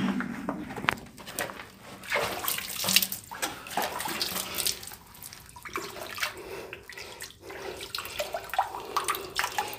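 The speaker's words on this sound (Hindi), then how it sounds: "इस तरह से मैंने वहाँ से पानी भर भी लिया और पानी पी भी लिया है" Water splashing and running as a container is filled from a water source high on a hilltop fort in Daulatabad, Maharashtra, an uneven close-up gurgle with birds faintly in the background.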